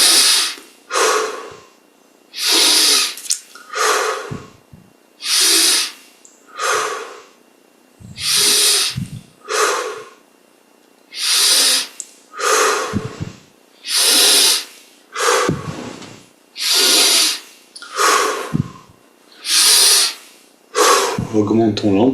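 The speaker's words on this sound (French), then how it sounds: "Et on prend ici 20 grandes respires." Deep, slow breaths during a guided breathing meditation, about a dozen long airy inhale-exhale cycles in steady rhythm, close and fairly loud, with no talking over them.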